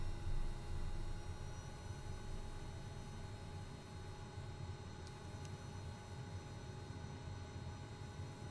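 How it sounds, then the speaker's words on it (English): A light aircraft engine in Microsoft Flight Simulator, bush flying in Botswana, fires up and settles into a steady broadband drone with a faint constant whine, even and continuous with no talk. "Let the aircraft fire up and settle itself."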